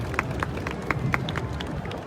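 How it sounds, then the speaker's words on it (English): Crowd clapping along at an outdoor street show in Sydney's Darling Harbour, a steady patter of scattered hand claps with a few sharper, louder ones standing out over a busy background hum. "And clap now, everybody."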